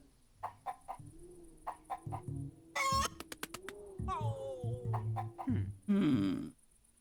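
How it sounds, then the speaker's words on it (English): A chicken in the video game The Supper clucks in short repeated bursts and a few rising squawks. The clucks are close and clear over a steady low game drone, with a loud flurry near the end. "Now, how do you distract a chicken?"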